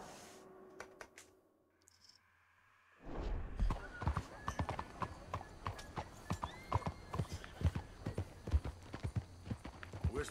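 A Mustang horse in Red Dead Redemption 2 sets off after a few seconds of quiet, its hooves clip-clopping in a steady, close, even rhythm through the rest of the stretch.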